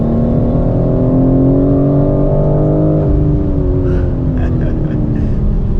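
A 2023 BMW M4 Competition at full song on a racetrack lap, its loud engine drone steady and close with rich layered tones, dipping briefly as if shifting before pulling on again.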